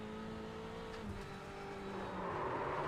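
A GT race car engine drones in a sim racing game at Road Atlanta, a steady mid-volume whine with shifting tones that builds slightly toward the end.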